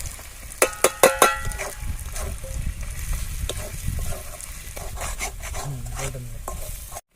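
Ground spices with ginger and garlic frying in a pan: a spatula clatters against the metal in a quick run of sharp knocks, then steady close sizzling and scraping strokes continue throughout.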